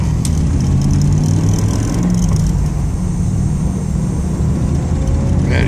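A 1986 Chevrolet Camaro's engine drones steadily and loud from inside the car as it drives along rough backwoods country roads, a constant low rumble with road noise and no talking.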